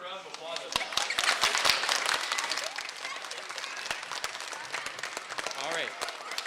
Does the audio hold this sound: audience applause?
yes